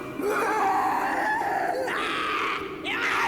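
A frantic, deranged screaming voice shrieks close and loud in long wavering cries, broken by brief gasps, with no other talk.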